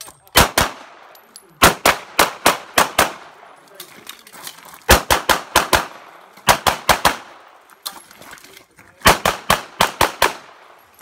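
Rapid bursts of shotgun fire at a gun club trap range, volleys of several sharp, loud reports in quick succession, repeating in four clusters with brief pauses between.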